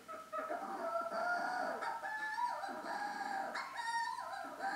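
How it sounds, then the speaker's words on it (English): Manx shearwaters, burrow-nesting seabirds, give a harsh, crowing, cackling call that rises and falls in repeated bursts, moderately loud and heard alone for nearly five seconds. "Manx Shearwaters, they kind of burrow underground, and they kind of call with this amazing..."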